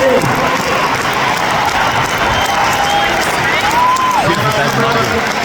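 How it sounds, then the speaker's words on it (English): Crowd at an Australian football match cheers and applauds in a steady, dense roar, with whistles and shouts rising above it throughout. "Please put your hands together for David Mundy"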